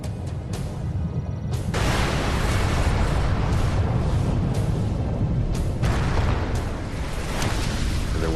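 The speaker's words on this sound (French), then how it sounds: "Il y a eu une énorme explosion" A huge airburst explosion of space debris entering the atmosphere erupts into a sustained roaring boom, loud and broad, rumbling on for several seconds with surging blasts and no speech.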